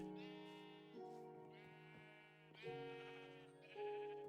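Sheep in Minecraft bleat repeatedly, a run of overlapping wavering cries of fairly steady loudness, with no talking over them.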